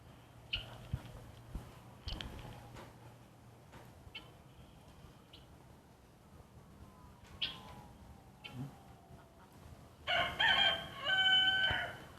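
A rooster crows in a recording played back at a St. Charles County, Missouri council meeting, with faint scattered sounds first and then a loud crow near the end, and no talk.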